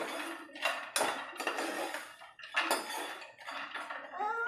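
Almonds and cashews dry-roast in a pan for black sesame laddus, with a spatula clattering and scraping against the metal in uneven close bursts and short pauses between them.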